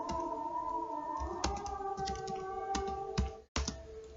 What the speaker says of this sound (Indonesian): di sini kita ketik aja nama pengarangnya itu